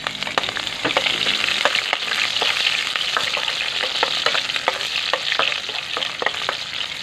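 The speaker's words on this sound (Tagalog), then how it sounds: "Manggisa muna tayong bawang at sibuyas." Garlic and onion sizzle as they sauté in a pan, a dense, loud, continuous frying hiss broken by frequent sharp crackles and pops, close up with no voices.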